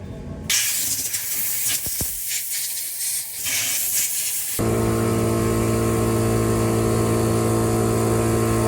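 Aerosol spray hisses in a few bursts over about four seconds while cleaning a very dirty motorcycle stator from a Yamaha Aerox engine, then a steady mechanical hum takes over.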